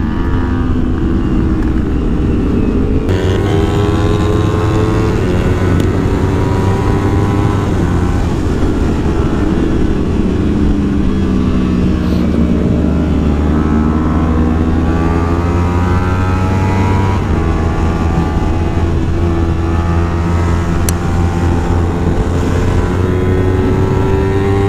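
Motorbikes race at full throttle during a fun race on a track day, one slower bike trailing a 300 cc machine; a steady, loud engine roar with rising and falling pitch sweeps runs throughout, continuous and close.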